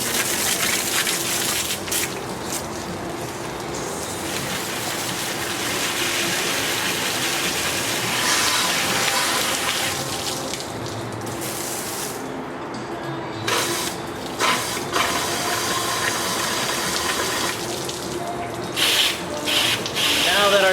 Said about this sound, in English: we can grab our hose and clean off all our suds